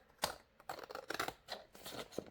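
Scissors snip through paper and lace strips for a junk-journal collage, a quick irregular series of crisp close cuts with light rustling between them.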